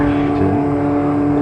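Motorboat passing on the water near a bass fishing spot, a steady close engine hum with a strong low tonal drone, loud and continuous for its short duration.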